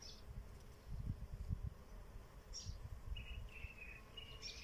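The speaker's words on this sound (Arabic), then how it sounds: "النحلة،" A bee buzzes faintly near blossoming lemon trees, a low hum under soft rustling, while small birds chirp briefly in the background.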